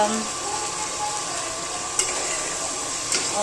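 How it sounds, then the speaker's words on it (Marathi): Onion and garlic sizzle in a hot tempering for a mung dal curry: a steady, close hiss with two brief clicks from the pan. "याच्यामध्ये ना फोडणीमध्ये कांदा टाकला आहे, लसूण टाकला आहे"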